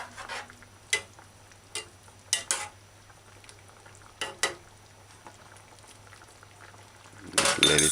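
Okra and cho-cho stew boiling hard in an uncovered pot on high heat, with scattered bubbling pops and splutters over a steady low hum, ending in a louder burst of sizzling.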